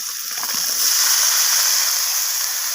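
Green peas dropped into hot oil and spice masala in a pan for an egg omelette curry, giving a loud, steady hiss of sizzling frying that swells shortly after they go in.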